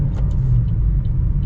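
A 2022 Chevy Trax AWD with a turbo engine accelerating, heard from inside the cabin as a loud, steady low engine drone and road rumble with a few faint clicks above it.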